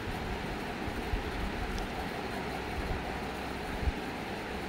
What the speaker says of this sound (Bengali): মাঝে মাঝে ট্রেন ছুটে যাচ্ছে